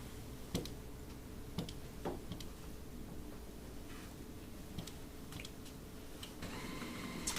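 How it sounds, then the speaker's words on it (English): A printer running a test page during a key-signing ceremony, heard as faint, irregular ticks and clicks over a steady hum, with a brief burst of mechanical whirring near the end. "We hear a printer going."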